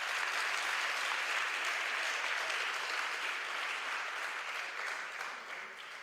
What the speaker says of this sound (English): give Inga a big round of applause